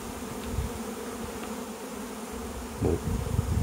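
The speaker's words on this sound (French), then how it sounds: "Il y a un essaim qui vient de sortir." A honeybee swarm pours out of a neighbouring apiary, a dense, continuous hum of many bees at moderate distance, steady and unbroken.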